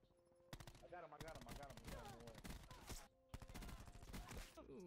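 The Spitfire gun firing in the video game Black Ops 4, rattling out fast sustained automatic bursts with a short pause in between, while people talk and exclaim over the shooting.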